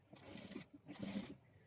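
A sewing machine stitches invisible-thread piping around a blouse's round neckline in two short, close bursts of rapid stitching separated by a brief pause.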